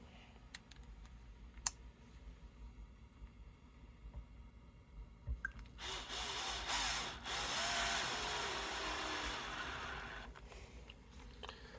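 A Bosch power tool whirs up on a vintage Harmony guitar, a loud few-second buzzing burst that stops and starts again after faint clicks and handling noises, with no talking.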